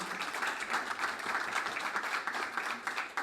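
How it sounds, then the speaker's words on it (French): A crowd applauds in a steady, even wash of clapping that lasts the whole few seconds, with no voices over it. "Oui, on peut l'applaudir, merci beaucoup."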